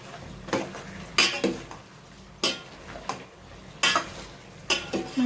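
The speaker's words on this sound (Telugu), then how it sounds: "సరిపడేంత పసుపు వేసుకొని ఒకసారి కలుపుకోవాలండి." Metal spoon scraping and clanking in a pot as turmeric is stirred into country chicken curry, with several sharp bursts of scraping repeating at irregular intervals, close and fairly loud, with no talking.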